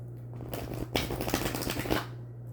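Tarot cards are riffled and shuffled for about a second and a half, a dense fluttering burst over a low steady hum, with quiet before and after.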